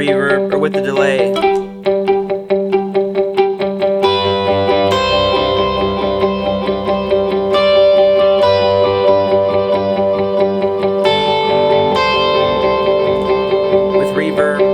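An electric guitar for worship leading rings out through reverb and delay, layered chords and single notes swelling and echoing into a full wash of sound, loud and close.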